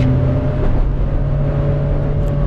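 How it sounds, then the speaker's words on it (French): A BMW engine drones loudly and steadily while driving, a close, continuous low hum with slight throttle fluctuations heard from inside the car. "Et la BM est bien plus bruyante que ma voiture"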